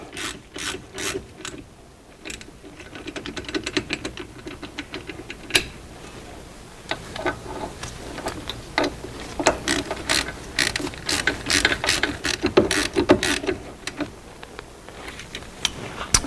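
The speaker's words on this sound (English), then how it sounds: "I'm gonna get the caliper bolts snug and then we're gonna torque them down." A hand ratchet snugs the brake caliper bolts on a Mercedes Sprinter van, with rapid close clicking in bursts separated by short pauses, plus some metallic handling noise.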